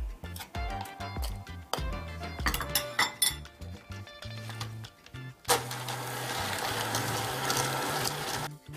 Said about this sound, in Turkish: mikserle çırpmaya devam edeceğim